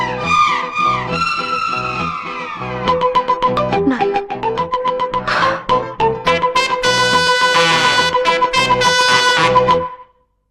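A loud electronic phone ringtone plays a bright, repeating melodic pattern of pulsing tones for about ten seconds, then cuts off.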